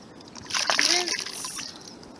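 A short splash and slosh of water as a bottle is rinsed in a bucket, close by, lasting about a second, with a voice briefly audible.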